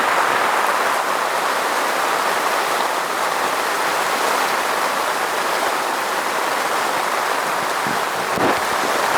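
Heavy rain pouring down hard onto a bivvy at a carp fishing lake, a loud, steady, unbroken hiss of downpour with no pauses, close and enveloping throughout.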